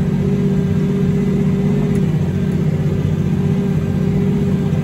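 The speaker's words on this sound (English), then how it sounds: "Right, we just got the tractor going." A Blue Power T7.225 tractor engine runs while ploughing, a loud, steady, close mid-pitched drone with a constant rumble and no breaks.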